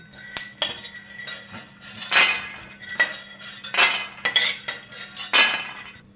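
Roasted curry leaves scraped out of a pan onto a plate, a run of close metallic clinks and scraping strokes in irregular bursts over a low steady hum.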